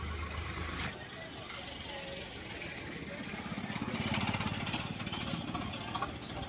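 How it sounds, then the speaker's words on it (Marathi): Faint traffic on a rough village main road in Narkhed, a low engine rumble from cars and trucks that swells midway as a vehicle passes, then eases off. "दर एक मिनिटांनी चार पाच गाड्या या मुख्य रस्त्याने जातात"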